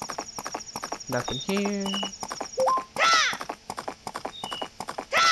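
A horse gallops across Romani Ranch in a Zelda video game, brisk rhythmic hoofbeats with whinnies and short game chimes, while someone talks casually over the ride.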